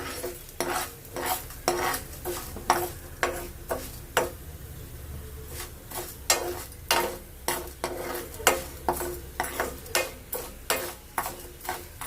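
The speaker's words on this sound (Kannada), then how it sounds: "ಇವಾಗ ಜೀರಾ ಹಾಕ್ತಾ ಇದ್ದೀನಿ." Cumin seeds frying in a pan, with a quick rhythmic series of scraping stirring strokes over a soft continuous sizzle, close and fairly loud.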